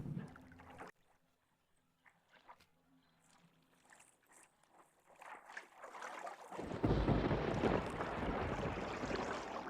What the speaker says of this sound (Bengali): মাঝিটা কোনো শব্দ না করে ধীর গতিতে নৌকার দাঁড় টানতে থাকে।